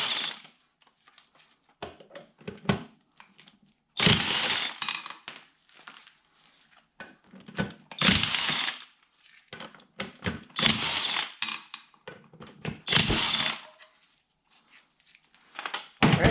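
A socket wrench works the lug nuts off a John Deere 318 garden tractor wheel, with bursts of ratcheting and metal clatter broken by quiet pauses.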